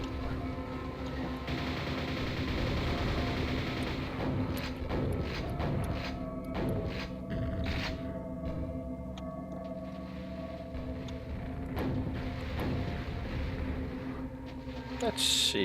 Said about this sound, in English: Ah, I activated the crusher.